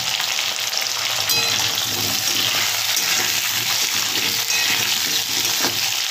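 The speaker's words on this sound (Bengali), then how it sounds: "এটা আলু আর মুখি কচুটা ভালো করে ভেজে নেবেন" Potatoes and taro root frying in oil in a pan for a tilapia fish curry, a steady close sizzle running throughout with occasional scrapes and clinks of stirring.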